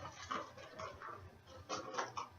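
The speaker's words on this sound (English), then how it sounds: "so I'm just going to throw it into the bowl" Cubed cheese tumbles into a bowl with a few soft, faint clatters and light taps, spaced out over a couple of seconds in a quiet kitchen.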